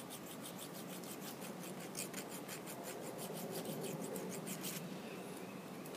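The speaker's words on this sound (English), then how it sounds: "So when you sharpen any ship auger bit, you just gotta match the angles that are already there." A hand file sharpens a Harbor Freight ship auger bit, giving a rapid series of close, rhythmic rasping strokes that run steadily, with no talk.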